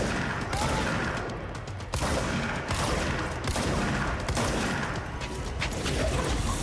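Sustained rapid gunfire in the video game Control, a dense barrage of loud overlapping shots and impacts running almost without break, with only brief dips in the volley.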